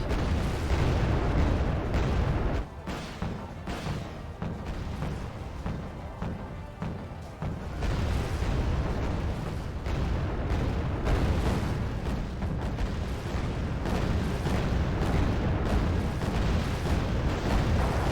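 Bombs explode in the war strategy game Wargame: Red Dragon. The blasts form a continuous roar of booms and bursts, loud and dense throughout, with a brief lull partway through.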